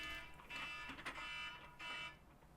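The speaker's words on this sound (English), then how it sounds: "alarm just went off" An electronic alarm sounds faintly in the background, a steady high-pitched tone with a few louder bursts, no talking.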